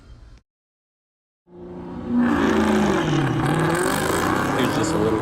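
A tuned BMW 335i launching down a drag strip, the engine note rising loudly from silence into a sustained strained roar as it accelerates, heard close and continuous.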